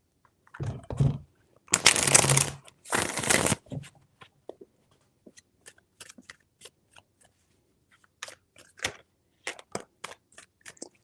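Tarot cards shuffled in three bursts, a brief riffle, then two longer dense riffling sweeps, followed by scattered light card taps and flicks; close and fairly quiet, with no talking.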